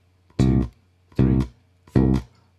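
Three short, evenly spaced bass guitar notes land one per beat, each a brief, full-bodied pluck cut off cleanly with quiet gaps between.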